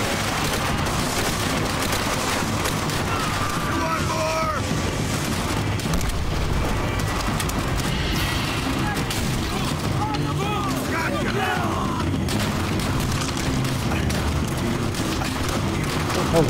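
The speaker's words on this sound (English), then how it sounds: "Where are they shooting from?" Enemy gunfire crackles nonstop in the war shooter Call of Duty: World at War, with dense bursts and booms layered under a player's talk.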